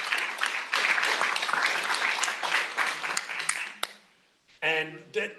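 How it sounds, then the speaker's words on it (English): Loud crowd applause and cheering at a town board meeting fill the first few seconds, fading to near silence, then a brief burst of voices or music returns. "give a real big round of applause for Rob Dolbaum"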